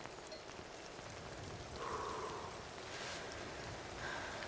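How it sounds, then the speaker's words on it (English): Rain falls steadily as a soft, even hiss of dense drops, faint and continuous with no voices over it. "It's raining again."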